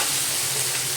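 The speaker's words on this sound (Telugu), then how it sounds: "ఉల్లిపాయ, పచ్చిమిర్చి, టమాటా ఒకేసారి వేసుకొని కలిపేసుకోవాలి" Chopped onion, green chili and tomato sizzle steadily in a hot frying pan while being stirred, a close, continuous bright crackle with no pause.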